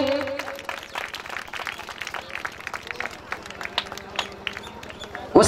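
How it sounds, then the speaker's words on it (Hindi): An audience claps in a fast, steady rhythm at an award ceremony honouring 12th-grade female students, the claps dense and continuous throughout, with a sharper knock at the very end. "जोरदार ताली लगाएंगे।"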